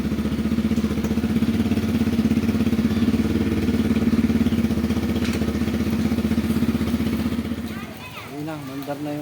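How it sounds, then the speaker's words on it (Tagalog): A motorcycle engine runs steadily at a low, chugging idle after being stranded by flooding, close and continuous, with a person talking near the end. "Ayun na, mandar na yung motor ko. Andar na siya guys."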